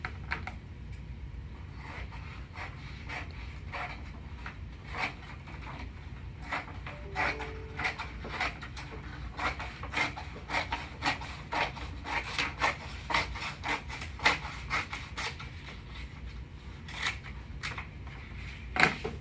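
A Cornhole Armor wrap being trimmed along the edge of a wooden cornhole board, with steady close scraping and cutting strokes and a run of quick clicky rasps, no talking.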